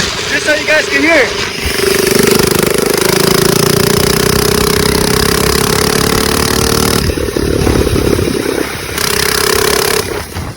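Loud, close drone of a Coleman CC100X minibike engine running through a chrome straight pipe with no muffler, holding a steady pitch while riding, then dipping and picking back up near the end.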